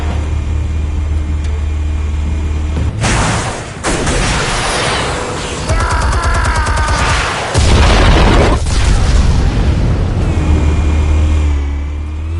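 Explosives detonating in a Batman film scene: several loud, heavy booms and blasts in bursts, with rumbling debris and roaring noise between them, no voices.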